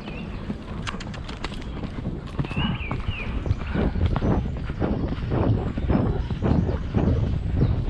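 A horse's hooves clip-clop in an irregular walking rhythm on a cross-country practice course, with close, distinct impacts and a few faint chirps in the background, no talk.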